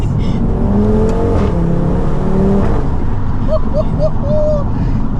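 A 460 bhp Stage 2 tuned Audi RS3 8P accelerating hard, its engine note rising through the gears with a loud, close drone; a voice speaks briefly over it and chirpy high sounds appear near the end.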